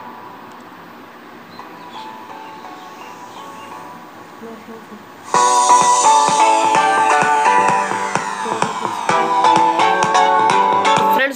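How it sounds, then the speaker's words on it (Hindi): A song plays through a homemade mini Bluetooth speaker, bursting in loud and bright halfway through after a quiet stretch with a brief spoken word, with a steady beat and melody continuing to the end. "अब फ्रेंड्स मैं इसमें इसमें गाना बजा देता हूँ, आप इसकी आवाज़ सुन सकते हो।"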